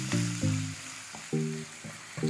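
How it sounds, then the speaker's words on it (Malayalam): Two medium onions cook with a pinch of salt in a pan for prawn biryani. A soft sizzle runs throughout, broken by a few short scraping bursts as they are stirred, close and fairly quiet. "ഇതിലേക്ക് സ്വല്പം ഉപ്പും ഇട്ട് നന്നായി ഒന്ന് വഴറ്റിയെടുക്കാം"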